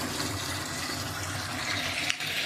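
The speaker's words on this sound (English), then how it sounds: "So we putting clean water, all the dirty water gone now" Clean water rushing into an endoscope reprocessing machine, a steady loud gushing fill that runs without pause, with no talking.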